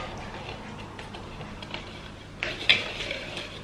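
A whisk mixes butter and sugar in a bowl at home, making faint, uneven clinks and scrapes that grow a little sharper near the end, with soft voices in the background.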